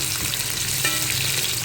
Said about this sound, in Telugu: ఆనియన్స్ వేసి ఫ్రై చేసుకున్నాం